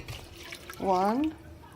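A brief gush of water poured into a pan of ezogelin soup, its tone rising quickly over a quiet background.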